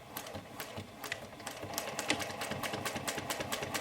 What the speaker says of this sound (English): we're going to sew up that V and all the way off the edge of the fabric